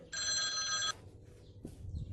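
A mobile phone gives a single short electronic ring, bright and close, then cuts off into quiet background noise.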